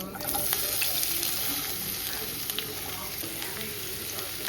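Potato pieces frying in plenty of hot oil with mustard seeds, cumin, dried red chillies and pepper give a steady, close sizzle, with a few stirring scrapes and faint spits along the way.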